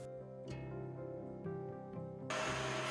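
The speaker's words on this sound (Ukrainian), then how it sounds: "Тепер об'єдную усе блендером." Electric blender whirs steadily while mixing a wild garlic spread with olive oil, salt and pepper, a faint, even motor hum that surges louder near the end, no talk.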